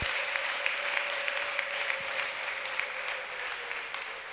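A church congregation claps steadily in a hall, a continuous patter of many hands at moderate loudness, with a faint sustained tone underneath.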